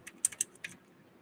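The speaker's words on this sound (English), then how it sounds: "This keyboard, I hold the function key and that to make the volume go up." Function and volume keys tapped on a computer keyboard, a few quick close plastic clicks in a short uneven burst, then quiet.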